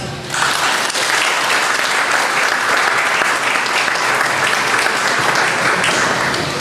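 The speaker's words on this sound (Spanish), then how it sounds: "para quien pido un fuerte aplauso" Strong, dense applause from an audience at a law lecture held for a law faculty event, continuous and loud throughout with no voices over it.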